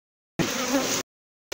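A dense buzz of honey bees swarming close by around a hive during a transfer from a traditional to a modern hive, cutting in and out abruptly in short bursts.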